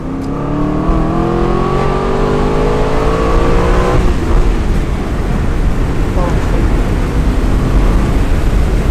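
A manual Aston Martin V8 Vantage Roadster with the 4.7 engine accelerates hard, its loud rising engine note climbing steadily before settling into a rough, roaring drone, heard from inside the car.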